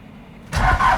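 Old Ford truck with a cold diesel engine starting after a quiet pause, the engine catching abruptly into a loud, rough idle that rumbles close by.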